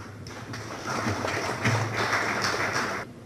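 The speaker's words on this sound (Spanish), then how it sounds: "a quien le brindamos un caluroso aplauso" An audience in a supreme court hall applauds the President of Germany with a brief burst of warm clapping lasting about three seconds before fading out.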